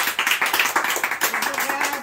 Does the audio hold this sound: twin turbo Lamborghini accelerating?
no